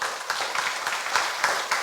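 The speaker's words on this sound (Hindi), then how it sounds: "क्या ताली नहीं बजाता है जोर से?" A church congregation claps together at a Sunday service, a fairly even crowd of hands beating in loose rhythm at moderate volume, with no voice over it.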